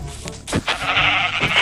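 A sheep in a blocky survival video game gives one loud, close, wavering bleat that stands alone without speech.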